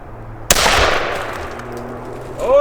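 A single CCI Stinger .22 LR round fired into a dog food can: one sharp, loud crack followed by a long decaying outdoor echo, close to the listener.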